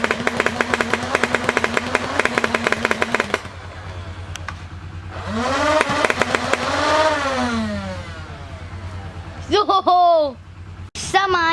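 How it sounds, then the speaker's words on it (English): Nerf Rival Perses MXIX-500 fully automatic blaster firing Rival rounds in a fast, rapid-fire burst of mechanical rattling, then quieter whirring and rising and falling motor whines, with a short final burst near the end. "And now I will show the firing. Shooting Nerf rival rounds."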